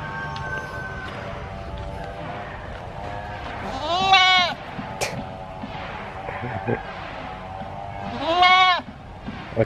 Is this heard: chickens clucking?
no